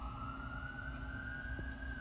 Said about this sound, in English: Still more sirens.